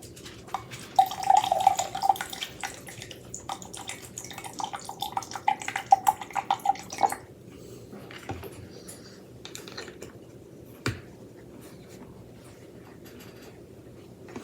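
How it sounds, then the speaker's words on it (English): Alcohol is poured over layered liquids in a three-liquid separation experiment, giving a soft trickling and dripping for several seconds, then quieter glassy ticks and faint handling sounds close by. "Now what pour a little bit of alcohol on it."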